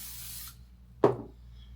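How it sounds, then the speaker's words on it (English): Hair spray hissing onto oily hair in a single short burst, close and fairly loud, fading quickly, with no talking. "I am going to put some spray in it because it's very oily up there"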